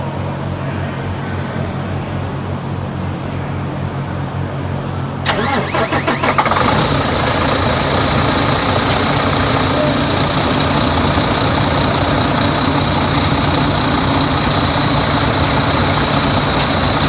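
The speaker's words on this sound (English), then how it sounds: "start this truck real quick" A truck engine cranks and fires after a few quiet seconds, then settles into a loud, steady idle that runs on evenly, with an AC freon test under way.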